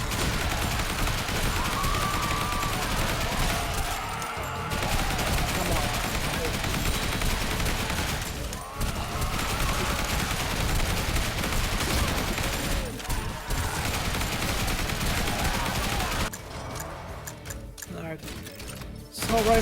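Sustained assault rifle fire rattles nearly nonstop in a zombie survivors video game, dense rapid bursts with a few short pauses and a voice talking over the shooting.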